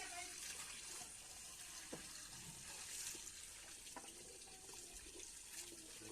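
Coconut milk is poured in a kitchen while making nonbu kanji, a rice porridge. It makes a faint, continuous trickling, liquid sound, with soft background noise and occasional clinks throughout.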